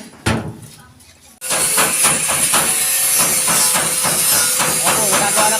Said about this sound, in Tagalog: Ano, grinder natin.